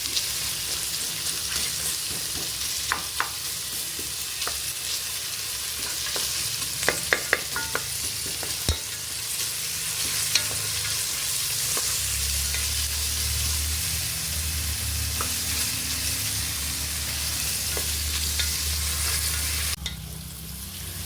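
Onions for mutton biryani sauté in a pan, a loud continuous sizzle close up with occasional clacks of a stirring spoon against the metal and a deeper bubbling hiss building in the later part.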